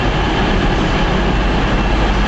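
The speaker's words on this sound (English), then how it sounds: "I'll film this Pendolino in a second to get the train" A Pendolino train passing close by on the line, a loud, steady broadband roar of wheels and rushing air filling the whole moment with no pauses.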